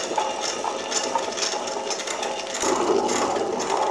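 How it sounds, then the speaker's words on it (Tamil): A wet grinder grinds soaked urad dal into batter for medhu vadai, a steady whirring, rattling churn with a slight shift in tone partway through. "உளுந்து இப்போ கிரைண்டரில் மாவு ஓடிக்கிட்டு இருக்குது"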